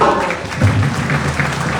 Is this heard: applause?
yes